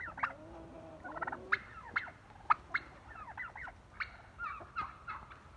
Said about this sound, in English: right now I have the chickens right here.